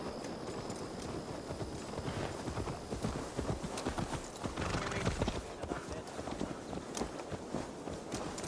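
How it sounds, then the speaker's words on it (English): Horse hooves clip-clop steadily at a walking pace in Assassin's Creed Valhalla, with an occasional whinny, heard close and moderately loud under a game soundtrack. "Let's return the horse."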